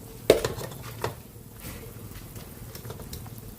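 Cabbage dropped into a pot of boiling fish soup: a sharp clatter and a second knock of metal pot and utensil, then a soft bubbling and rustle underneath.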